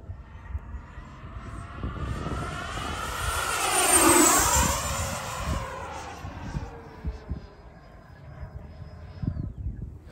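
Freewing F-35 70mm electric ducted-fan RC jet with tailerons and flaperons on its maiden flight, passing by outdoors: a high whine swells to a loud peak near the middle, with the pitch dropping as it flies past, then fades under wind.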